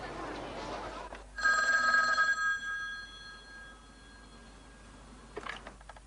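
A telephone rings once in a short, bright burst in a French Christmas film scene, followed by quiet room tone.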